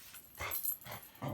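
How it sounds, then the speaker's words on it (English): A dog yips and whimpers in a few short, faint bursts, fairly distant and quiet. "you hear our farm dog Gracie. She's barking at those cows"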